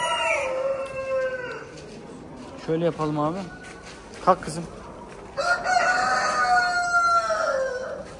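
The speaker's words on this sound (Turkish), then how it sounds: "Bunlar da Orpington ırkı tavuklar yine" Orpington chickens at a poultry show crowing and clucking in several bursts, with a long crow at the start and another toward the end, while someone talks nearby.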